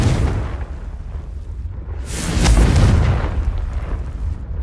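A fire spell explosion from the video game Hogwarts Legacy erupts mid-clip, a loud deep boom with a bright burst swelling over a rumbling game background.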